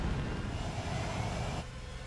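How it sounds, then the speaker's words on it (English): Spacecraft thrusters powering up in DOOM: The Dark Ages, a loud, steady roaring engine drone with a rising whine that cuts back abruptly near the end, no voices. "thrusters online"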